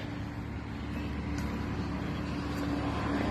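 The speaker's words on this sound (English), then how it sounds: "The noise you can hear is what they call a mulch eater, or a mulching machine" A mulching machine runs outdoors in light drizzle, a low, continuous mechanical engine drone, steady and moderately loud, with faint background hiss and no voices.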